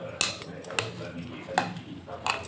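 A spoon clinks against a bowl while corn tikka ingredients are mixed, giving a few sharp, separate metallic taps spread across a couple of seconds, close and fairly soft.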